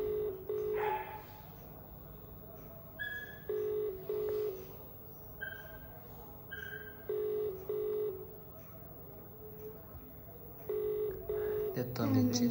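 Telephone ringback on an outgoing call: repeated paired beeping tones in regular bursts about every two seconds, fairly clear and close, with some background noise and a louder burst at the end.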